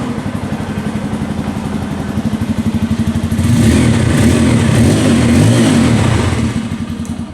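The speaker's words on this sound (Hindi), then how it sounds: "इसकी जो एग्जॉस्ट नोट है वो काफ़ी ज़्यादा बेसियर आपको महसूस होती है F250 में" A Bajaj Pulsar F250 BS6 motorcycle idles with a steady, deep pulsing exhaust thump, then revs up to a louder, fuller roar held for a few seconds before settling back down, with no talking.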